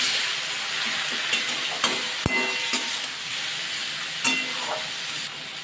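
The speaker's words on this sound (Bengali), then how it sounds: "আবার একটু নাড়াচাড়া করে নিচ্ছি" Spices such as cumin powder and chilli powder sizzle in a hot pan while a spoon stirs and scrapes, with a few sharp metallic clinks against the pan; no one speaks.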